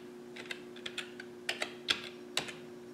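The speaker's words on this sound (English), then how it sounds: "now type format." Keystrokes on a computer keyboard while a format command is typed, a run of about ten light, uneven clicks with brief pauses between them, close and clear over a steady low hum.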